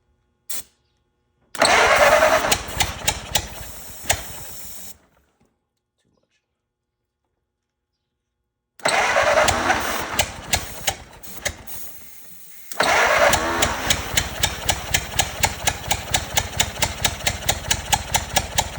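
A 104-year-old Ford Model T engine runs rough, misfiring with apparently only one cylinder firing. Loud, uneven chugging comes in bursts, with starts, stalls and silent gaps between runs.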